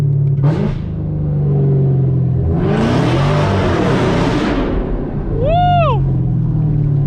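A modified Camaro ZL1's engine rumbles steadily while driving, then a broad exhaust roar swells and holds for a couple of seconds before a brief high whine near the end.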